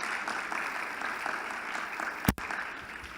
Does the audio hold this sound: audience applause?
yes